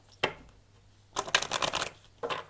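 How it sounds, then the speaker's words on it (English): A deck of tarot cards is riffled and shuffled nearby: a single quick flick, then a longer flurry of papery snaps, then another short burst. "Okay, we'll do one last shuffle"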